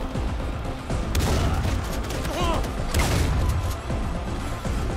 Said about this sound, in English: A lot of people here shooting at me.